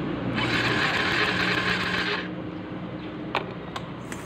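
A motorcycle that won't start is cranked while its ignition coil is held against the cylinder head cover. A rapid, whirring starter churn lasts about two seconds, then cuts off, followed by a few sharp clicks.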